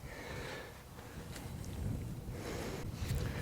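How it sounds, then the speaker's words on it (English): Wind gusting across a golf course, a faint, rough rushing that buffets the microphone steadily for a few seconds, with no voices. "That wind picked up."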